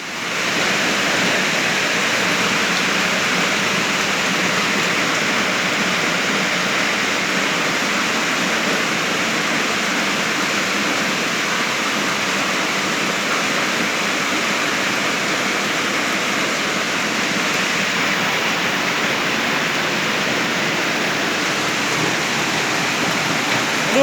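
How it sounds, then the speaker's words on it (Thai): Heavy rain pours steadily onto a street while water rushes along the flooded road, a loud, constant broadband roar with no pauses. "ฝนตกมาน่ะ จะได้เย็นสบาย ไม่ต้องร้อน"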